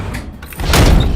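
A door slams shut with a heavy thud, loud and close, following a quieter stretch of faint knocks and room noise.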